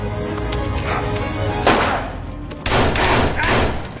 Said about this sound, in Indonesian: Karena bunyi tembakan tersebut